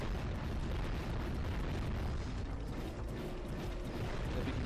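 Dark eco cylinders blowing apart in the Jak and Daxter video game, heard as a dense, continuous roaring rumble of blasts that stays loud throughout with no gaps.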